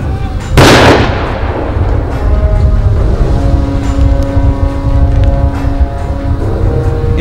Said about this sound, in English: The unlikely setting for the controlled explosion of a recently unearthed World War II